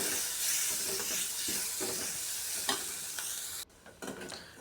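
Onion and spice mix sautéing in a pan for masala paniyaram, a soft continuous sizzle and hiss with occasional stirring scrapes, fairly quiet, briefly dropping near the end.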